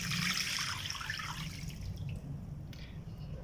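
About one kilogram of water is poured into a pot with chicken pieces and wings for soup, a close splashing pour that tapers off after a couple of seconds.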